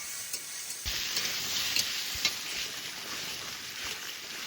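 Spice paste of ground cumin, coriander, dried chilli and black pepper frying with onion, ginger, garlic and potatoes in a pan, giving a steady close sizzle with occasional stirring scrapes.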